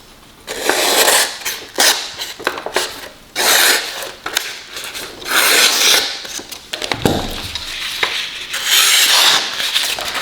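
Cheap multitool oscillating blade cutting into wood: harsh rasping, buzzing bursts that start and stop repeatedly with short pauses between passes, loud and close with no talking.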